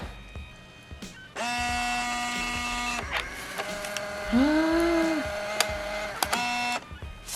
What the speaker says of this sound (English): Turn on the printer. Oh, there it goes.